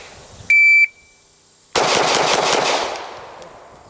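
A shot-timer beep sounds, then five gunshots crack in rapid succession during a rhythmic shooting drill, close and loud, a fast string followed by fading echo.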